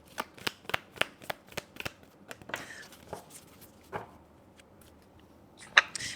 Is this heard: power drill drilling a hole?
no